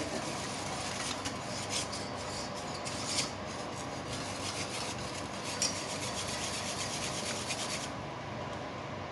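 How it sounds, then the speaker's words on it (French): Sauce for blanquette de veau, a butter-and-flour roux loosened with cooking liquid, stirred in a pot: a continuous close scraping and rasping of the spoon against the pan, with no voices. "Et maintenant, on vient déglacer tout cela avec tout le liquide de cuisson. On va mélanger et on va laisser épaissir."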